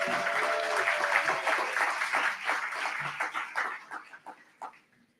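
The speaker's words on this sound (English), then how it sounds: "let's give them all a round of applause" Audience applause for award winners at the annual NMQF Leadership Summit, a broad wash of many hands clapping at steady volume that thins into scattered claps and fades out near the end.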